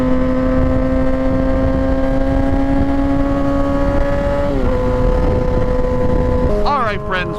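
A Kawasaki 636 motorcycle engine holds a steady, loud drone for several seconds, drops in pitch briefly, then revs up sharply near the end with rapidly rising tones.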